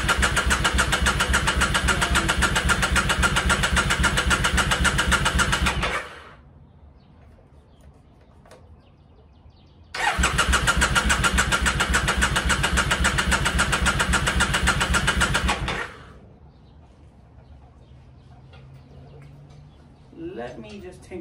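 A Triumph Thruxton 900 motorcycle with a newly replaced solenoid fires up with the choke out, running loud and steady for about six seconds, cutting out, then catching again for a second similar burst before going quiet.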